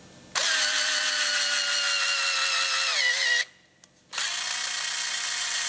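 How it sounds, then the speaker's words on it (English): A cordless drill whirs steadily at high speed for about three seconds while opening up threads in an MG engine block, stops briefly, then spins up again, loud and close with no talking. "And of course my drill is not the best drill in the world"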